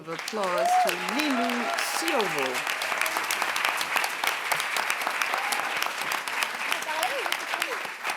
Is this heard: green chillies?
no